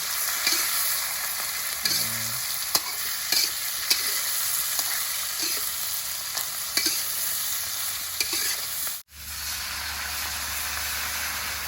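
Shiitake mushrooms, red chili and green peppercorns are stir-fried in a hot pan with a continuous sizzle and scattered scraping stirs. The sizzle cuts out abruptly near the end, then a low steady hum follows.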